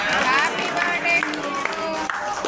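Clapping for a birthday at a home meal-donation gathering: a steady patter of many hands close by, mixed with group voices singing or talking throughout.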